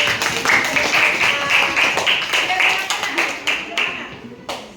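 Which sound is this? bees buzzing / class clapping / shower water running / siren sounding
class clapping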